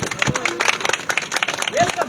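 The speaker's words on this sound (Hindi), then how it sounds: "ताली बजाओ एक बार" Audience at a political rally against the government clapping in a dense, uneven patter of many hands, with voices and crowd murmur mixed throughout and a brief vocal call near the end.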